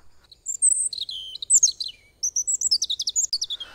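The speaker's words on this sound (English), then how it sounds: "A robin is a migratory songbird of the thrush family, with a reddish-orange breast." A robin, a reddish-breasted migratory thrush, sings a clear series of high, bright chirps and warbled phrases, close and alone, with a short pause before a faster run of repeated notes.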